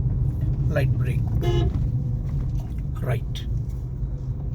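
A car horn gives a brief honk during a driving lesson on the road, heard over constant engine rumble, with an instructor's voice speaking around it.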